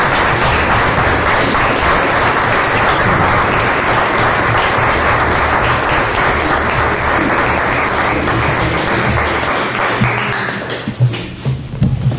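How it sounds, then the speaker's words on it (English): Sustained, loud applause from a conference audience, a dense wash of clapping that holds steady for about ten seconds before tapering off into a few scattered claps. "So let's get one more round of applause"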